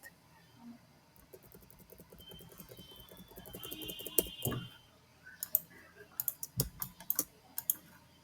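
Computer keyboard keys are tapped while text is typed into a design app, light irregular clicks building into quicker clustered bursts of keystrokes near the end, fairly close.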